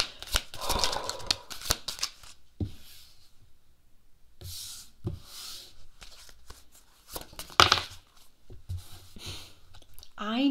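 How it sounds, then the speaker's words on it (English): Tarot cards shuffled by hand at close range, with bursts of rapid papery riffling and slapping separated by short pauses. "start shuffling out some cards on what they look like"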